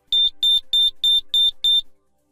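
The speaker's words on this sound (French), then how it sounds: "le niveau d'alarme pré-alarme faible qui déclenche des bips de 5 secondes sur la centrale" Six evenly spaced, piercing electronic beeps from a Diagral alarm control panel's low pre-alarm setting, in a steady rhythm, loud and close, then silence.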